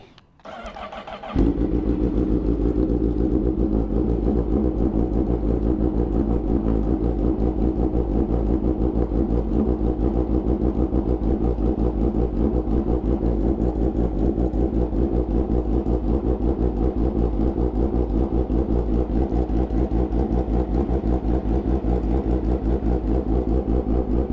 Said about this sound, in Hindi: ये तो आप कोल्ड स्टार्ट सुन रहे हैं